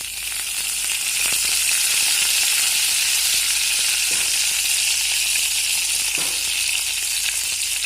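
Curry leaves and cumin seeds sizzle steadily in hot oil in a pan, a loud continuous frying hiss with a few faint crackles, no voices.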